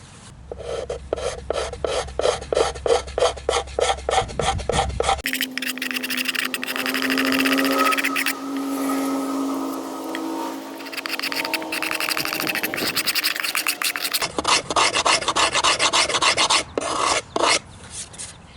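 Close, raspy sanding on a small pochette violin's wooden body in quick back-and-forth strokes, switching to longer continuous rubbing midway before the rapid strokes resume.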